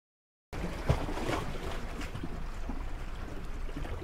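A boat comes in to dock on open water. After a brief silence, a steady, fairly faint wash of water and wind noise sets in and holds evenly to the end.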